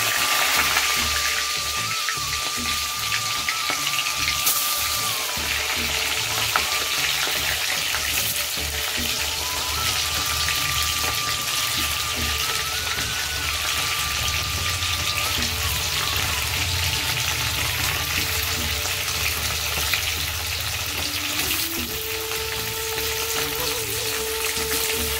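Olives frying in plenty of hot oil with extra chillies for a sweet-sour-spicy olive pickle, a steady close sizzle and bubbling with faint stirring scrapes throughout, no talk.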